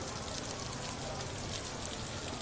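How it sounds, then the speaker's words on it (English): Rain patters steadily and densely on an umbrella at Magic Kingdom, a constant soft hiss with no talking. "I can see the rain's coming down."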